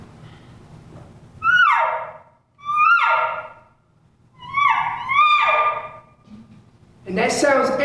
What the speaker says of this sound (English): I use a tube to amplify that cow sound.